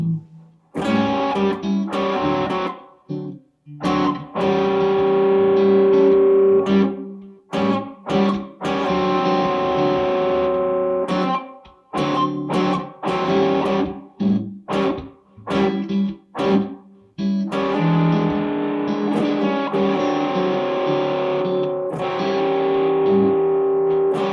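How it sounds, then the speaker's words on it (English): Distorted electric guitar plays bluesy phrases with pauses between runs, over a backing track, loud and close. "I'm going to put on this backing track I was playing with"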